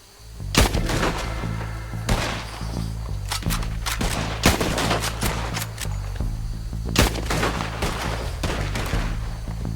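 Gunfire in Red Dead Redemption, with repeated loud sharp shots in irregular bursts and volleys over a rumbling game background, close and dominant.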